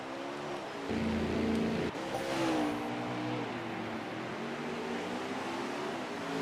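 Race car engines hum and rev along pit road in a sim racing game, Xfinity Series at Michigan International Speedway, a continuous layered engine drone with shifting pitch and a brief louder surge.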